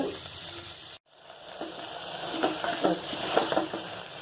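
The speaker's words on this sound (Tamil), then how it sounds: "ஒரு 5லேருந்து 7 நிமிஷம் வெங்காயம் நல்லா வதக்கிடணும்." Onions sauté in hot oil in a pan, giving a soft, steady sizzle with occasional stirring scrapes, fairly faint and close.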